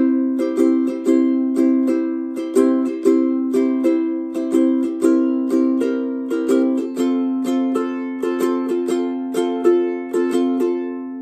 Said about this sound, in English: if you play an occasional island strum in there